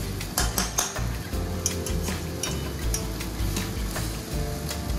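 Continuous sizzling of vegetables frying in a pan, with repeated scraping and clinking of a utensil stirring against metal.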